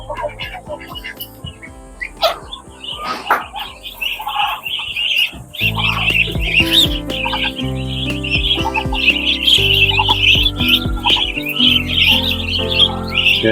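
Muscovy ducks squawking and chirping noisily while being fed on a farm, with repeated harsh calls close by overlapping a steady chorus of higher tweets. A hum runs beneath, and a voice can be heard among the birds.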